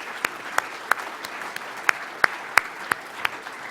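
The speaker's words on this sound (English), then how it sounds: "if we do one more round of applause for our athletes" An audience applauds athletes at the AAU Sullivan Award ceremony, a steady wash of crowd clapping with a few loud, crisp individual claps standing out at a regular, roughly third-of-a-second pace.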